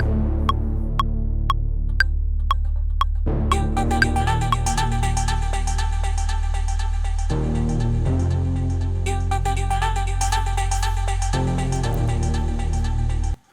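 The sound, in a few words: heavy echo on vocals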